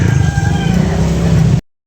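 A two-year-old white hatch rooster offered for sale crows once, loud and close. The call holds strong for about a second and a half, then cuts off abruptly.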